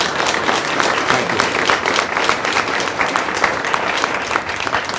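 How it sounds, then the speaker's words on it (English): An audience gives a big round of applause at an event on the opioid crisis, steady, dense clapping that fills the whole stretch without letting up. "Can we get those people, all four of them, a big round of applause?"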